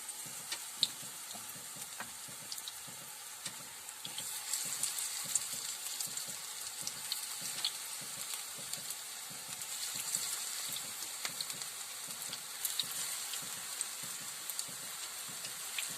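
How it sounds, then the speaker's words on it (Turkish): Potato kofte patties fry in hot oil with a constant soft sizzle, dotted with small crackles and pops throughout. "Şimdi hazırladığım köftelerimi ısınan yağımın içerisine ekliyorum."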